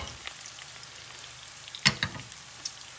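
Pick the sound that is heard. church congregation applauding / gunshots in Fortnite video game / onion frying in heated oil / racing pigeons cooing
onion frying in heated oil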